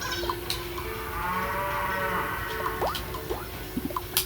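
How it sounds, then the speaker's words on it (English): A cartoonish cow moos in the Miitopia video game, a drawn-out low call over a steady bed of game music and ambience, followed by a few short chirpy effects. "What was that? A cow."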